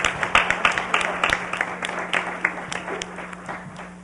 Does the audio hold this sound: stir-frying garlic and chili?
no